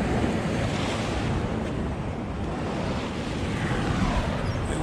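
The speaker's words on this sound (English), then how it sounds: "And you're looking at the Atlantic Ocean right here." Atlantic Ocean surf at Brighton Beach, a broad continuous wash of breaking waves mixed with wind noise, steady and fairly loud throughout with no talking.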